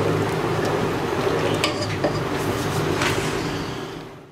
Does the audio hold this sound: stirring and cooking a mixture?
yes